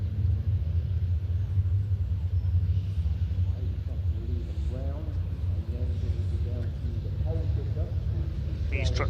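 Five-ton racing trucks with 12- and 13-litre turbocharged engines of nearly 1,000 horsepower rumble on the Pembrey circuit, a steady low engine drone under a commentator's continuous talk.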